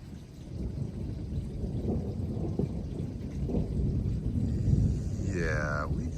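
A thunderstorm rolls in outside a house, with heavy steady rain and deep rumbling thunder building and swelling throughout, close and loud, with a faint whine near the end.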